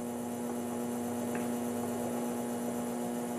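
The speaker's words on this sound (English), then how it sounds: "Let me go ahead and stop this motor." Steady electric hum from a motor driving a conveyor at about 500 RPM, a constant low drone with faint background static and no voices.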